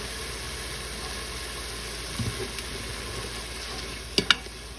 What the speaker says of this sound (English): But in this case, I think we're sauteing.